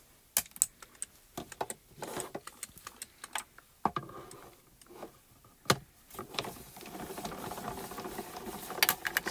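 A hand-cranked die-cutting machine feeds a card through over a gray mat, making a rapid, uneven series of close, quiet clicks and ratcheting ticks that blend into a faint rolling grind toward the end.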